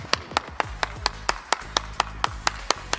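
A single person claps hands in a steady rhythm, about twelve sharp, close claps spaced evenly over a few seconds with little else around them.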